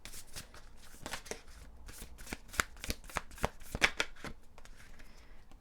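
Tarot cards being shuffled by hand, a steady run of crisp riffling slaps and flicks, close and fairly quiet with no talking.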